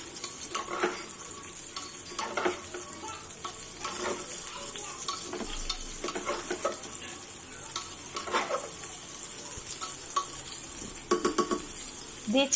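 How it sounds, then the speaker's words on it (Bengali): Mixed vegetables are sautéed with lentils in a pressure cooker pan, a soft steady sizzle under frequent spatula scrapes and metallic clinks against the pot, close and moderately quiet. "ডালের সাথে সবজিগুলো একটু কষিয়ে নিচ্ছি"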